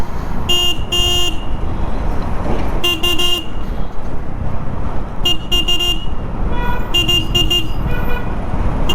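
A Royal Enfield Himalayan 450 motorcycle horn beeps in several short bursts, some single and some doubled, loud and close over a steady roar of engine and road noise.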